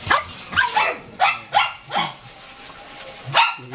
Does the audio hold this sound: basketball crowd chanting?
no